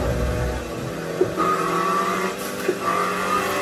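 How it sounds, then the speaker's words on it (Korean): Video game racing car engine droning and shifting pitch on a rain-soaked track, car damaged from many collisions, with a couple of brief sharp knocks, moderately loud, no talking. "엔진 소리가 이상하네요"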